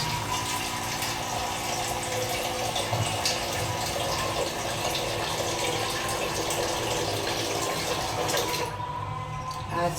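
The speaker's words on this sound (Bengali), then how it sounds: "চায়ের জলটা নিই।" Water runs steadily and fairly close as a kettle or pot is filled for tea, a continuous gushing rush that stops shortly before the end.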